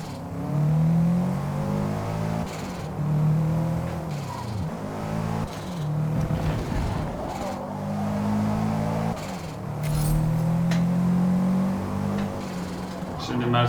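A race car engine in Forza Motorsport climbs and drops through the gears on a track, with repeated surges of revving and short dips between shifts, loud and close throughout.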